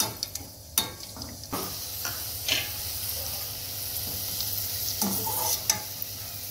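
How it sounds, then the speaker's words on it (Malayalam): Cashew nuts and raisins frying in hot oil give a steady soft sizzle, broken by several sharp clinks and scrapes of a spoon stirring against the pan, close and moderately loud. "അപ്പൊ ആ എണ്ണയിൽ തന്നെ നമുക്ക് ഈ അണ്ടിപ്പരിപ്പ് മുന്തിരി ഒന്ന് വറുത്തെടുക്കാം."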